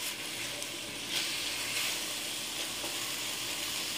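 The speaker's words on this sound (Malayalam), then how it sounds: "സവാള ഒന്ന് വഴറ്റിയെടുക്കാം" Onions with salt sauté in a pan for a Kerala-style crab roast, a constant soft sizzle of hot oil with occasional stirring sounds, moderately quiet and close.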